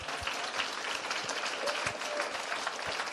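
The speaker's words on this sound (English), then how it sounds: "A round of applause," Applause from the audience at Roblox game jam awards, a steady, fairly faint wash of clapping held throughout, with a few sharper claps and a hint of crowd murmur.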